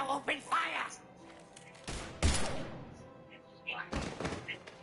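Bursts of Mass Effect 3 video game gunfire, loud thumping shots in clusters near two and four seconds, with game character voices talking between and over them.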